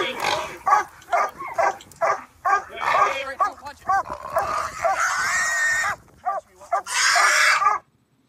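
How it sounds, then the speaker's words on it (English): A dog barks and yelps repeatedly, loud and close, in quick excited bursts with whining between, while a person talks over it. "Listen to that dog barking. You hear the dog barking?"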